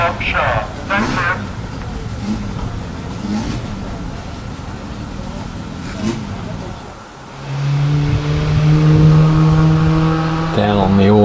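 At the Prescott hill climb, engines rumble and rev from the paddock, with someone talking over the first part before a loud car engine drones and revs up alone near the end.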